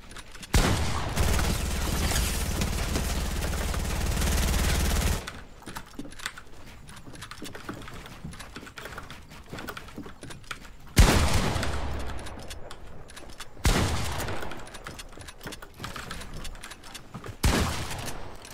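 Gunfire in Fortnite Battle Royale comes in dense, loud bursts, one long sustained stretch at first followed by shorter volleys later, with quieter clicking and keyboard-like rattles in the gaps.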